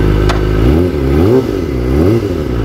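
A Kawasaki ZX-25R motorcycle fitted with an Over Racing exhaust revs loudly and close by, its engine note rising and falling in several blips over a steady idle.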